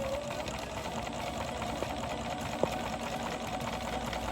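A sewing machine runs steadily while stitching appliqué fabric, a continuous close mechanical hum with a faint tick or two, heard without talk.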